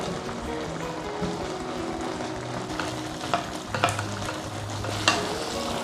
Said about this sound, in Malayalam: പഴം ഇനി ഈ ഒരു പാനിയിൽ കിടന്ന് നല്ല പോലെ വരട്ടിയെടുക്കണം